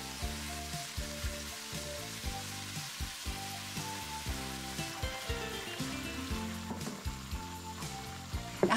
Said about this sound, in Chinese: 锅里油热以后，转小火，加入一勺豆瓣酱。 再加入麻辣火锅底料，